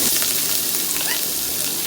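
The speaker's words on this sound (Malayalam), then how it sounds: "ഇനിയിപ്പോൾ വെളിച്ചെണ്ണ ഒഴിച്ചിട്ടപ്പോൾ നമുക്ക് ചെമ്മീനൊന്ന് വറുത്തെടുക്കാം" Raw prawns fry in coconut oil, a loud, dense, continuous sizzle close up that holds steady throughout with no voices.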